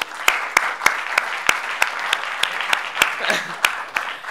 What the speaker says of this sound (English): So big applause for these guys as well.